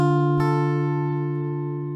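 A single strummed acoustic guitar chord rings out and slowly decays, sustained and clear with no other sound.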